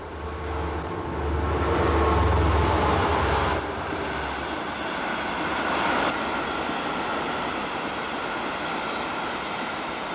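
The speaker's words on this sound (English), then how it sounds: "the Orient Express speeds on through the night." Orient Express train speeding through the French countryside at night, a continuous rolling rumble that swells early on, then settles into a steady roar.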